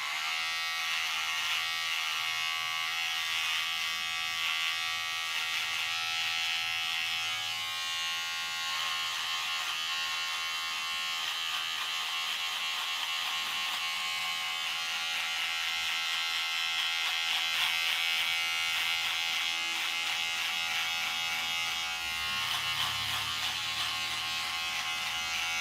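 Continuous close electric hair trimmer buzz running during a beard fade, a steady high-pitched whine with slight fluctuations in load as it moves through hair, holding for about twenty-five seconds without talk.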